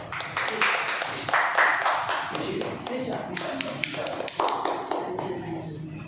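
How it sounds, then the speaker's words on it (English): A Toastmasters club audience at an offline meeting applauds to welcome a speaker, a steady crowd of hand claps with sharp individual slaps throughout, fairly close, with some voices mixed in under the clapping. "So please put up a round of applause to welcome Toastmaster Nishi Sharma."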